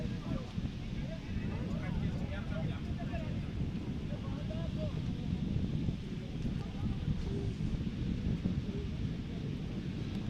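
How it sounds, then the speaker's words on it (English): Steady wind buffets the microphone at an outdoor rugby sevens match, a continuous low rumble with gusts that runs under faint crowd sounds. "It's a fair bit windier than yesterday"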